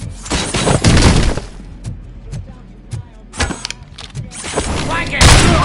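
Bursts of gunfire in the video game Robocop Rogue City, loud rattling volleys and sharp single shots with booming impacts, separated by short gaps, while voices shout over the action.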